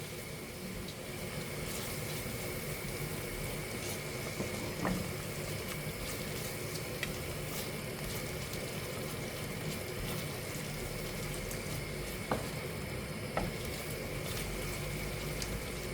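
Tomato puree and vindaloo paste, loosened with a splash of water, sizzle steadily in a hot pan, giving a continuous close hiss with small pops and no talking.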